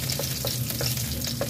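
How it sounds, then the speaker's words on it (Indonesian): Shallots and garlic sizzling in hot oil while being stir-fried for a cucumber, carrot and wood ear mushroom dish with oyster sauce, a dense close crackle with small regular stirring scrapes. "Sekarang kita tumis bawang merah dan bawang putih teman-teman."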